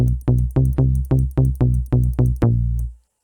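Solid bass and Bass 2 presets in Dexed, modeled on a 1990s Yamaha FM synth, play a run of about nine punchy, evenly spaced bass notes, each decaying quickly, with no voices.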